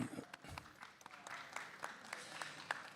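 Light, sparse applause from an architecture conference audience: scattered individual claps sound faint and slightly distant in a quiet hall, with a soft murmur underneath.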